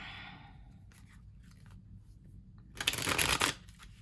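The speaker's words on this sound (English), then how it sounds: "Let me get one more good shuffle" Playing cards are riffled in a quick, close shuffle, a brief crisp flutter after some quiet handling noises.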